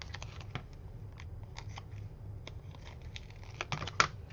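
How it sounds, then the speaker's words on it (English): Scissors snip through strong craft tape while trimming the excess from a shabby-style mini album page, a few quiet crisp cuts and light paper handling ending in one sharper snip. "I'm going to cut this extra off."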